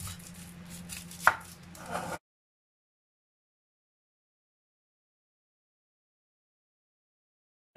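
A knife chops garlic and onion on a board, a short burst of close cuts with one sharp knock, lasting about two seconds before everything falls silent.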